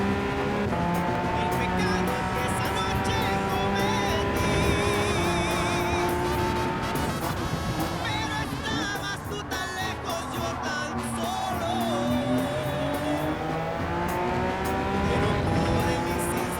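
Gran Turismo Group 3 race car at Daytona, engine roaring steadily with whining, shifting tones throughout and a brief tire squeal as the wheels spin while pulling away, with a voice talking over it.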